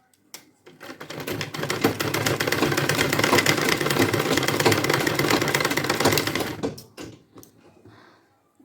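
Sewing machine stitching the joins of a shawl being made into warm pajami, a fast steady mechanical chatter that swells up, runs continuously for several seconds, then slows and stops.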